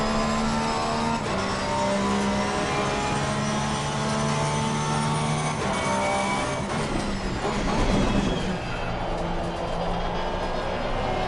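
A Porsche race car engine in a racing video game drones continuously with shifting whining tones that rise and fall through gear changes, loud and close, with no talk over it.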